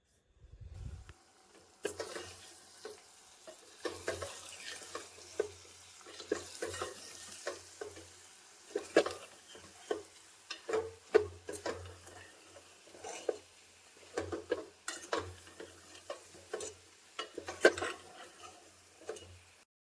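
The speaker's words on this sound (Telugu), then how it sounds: "ఇప్పుడు ఒకసారి బాగా కలుపుకోవాలి" A pot of mutton curry seasoned with chili powder and salt is stirred, with repeated scraping and clinking strokes in an irregular rhythm over a faint sizzle, fairly quiet and close, with no voices.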